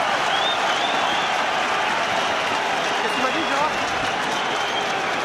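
Rugby crowd at a Munster versus Sale Sharks match roaring and applauding after a Munster try, a dense, loud, sustained wall of cheering with a commentator talking over it.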